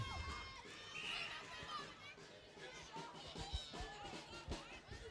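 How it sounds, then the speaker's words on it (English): Spectators at a Caribbean youth netball tournament in the Windsor Park Sports Stadium produce a steady, distant roar of chatter and shouts, with children's voices and occasional cheers rising and falling through it. "the crowd have just built up tremendously at the Windsor Park Sports Stadium"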